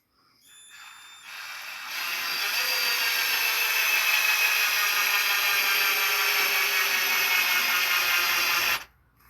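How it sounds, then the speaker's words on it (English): A power drill spins up to twist two wires together, then holds a steady, high-pitched whine for several seconds before stopping abruptly. The drill runs near and alone. "we got 2 wires and twisted them in the drill"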